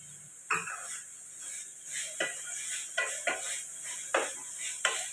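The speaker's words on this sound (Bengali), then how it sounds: "এটা একটু হালকা সটে করে নিলাম।" Food being sautéed in a pan with coriander leaves, a soft steady sizzle under repeated clinks and scrapes of a spatula against the pan, close and without talk.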